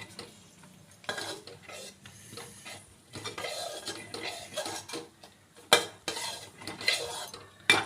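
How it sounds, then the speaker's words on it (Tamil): Jaggery being stirred into milk and dissolved moong dal in a heated uruli with the stove switched off, giving continuous scraping and clinking of a spoon against the metal vessel, fairly close, with no talking. "இந்த வெல்லத்தை நல்லா கிளறி விடணும்"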